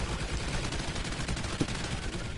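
Automated turrets firing in the Extinction video game, a steady rattling burst of rapid gunfire with one sharper crack near the end.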